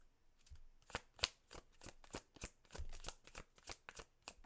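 Tarot cards being shuffled at a quiet close distance, a rapid series of soft papery riffles and slaps in an uneven rhythm, with no talking.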